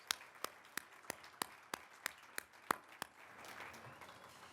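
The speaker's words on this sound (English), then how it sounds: "Give yourselves a round of applause." Audience at a scholarship awards event applauding, opening with a run of sharp, evenly spaced individual claps, then swelling into a softer blended clapping from the crowd near the end.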